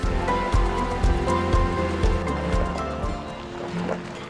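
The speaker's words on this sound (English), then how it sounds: "It's raining right now and it's just supposed to get worse" Rain patters steadily on a surface close by, with rhythmic low thumps recurring beneath it.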